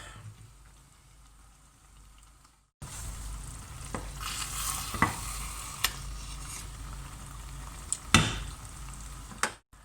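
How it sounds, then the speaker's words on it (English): Eggs going into a pan of shakshuka, a steady close sizzle of frying with a few sharp clicks and scrapes of stirring or cracking scattered through it. "We make a little bit of a divot and we pop our egg in."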